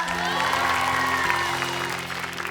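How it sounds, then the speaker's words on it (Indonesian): A studio audience applauds for Ferdi and Mutia on a Mega Konser show, steady clapping filling the room while sustained musical tones hum underneath. "Tepuk tangan dong untuk Ferdi dan Mutia"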